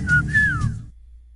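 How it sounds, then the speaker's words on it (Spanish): Mazatec whistled speech: a short whistled phrase of two or three gliding tones, close and clear, ending abruptly into silence. "te pongo primero el chiflido y te doy la pista"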